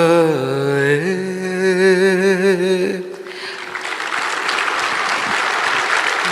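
At the end of a song, audience applause rises at a large news summit, a dense wash of clapping that follows the last sung notes and continues steadily.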